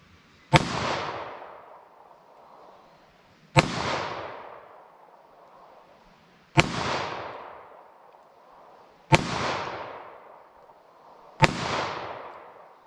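Five loud, sharp reports from a snub nose .38 revolver firing Remington HTP loads outdoors, spaced roughly two to three seconds apart, each a crisp crack with a short decaying tail and no talking.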